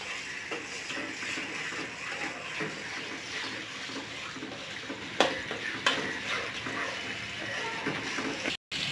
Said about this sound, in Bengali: এটাকে আমি ভালো করে কষিয়ে নেব তেলের ভিতরে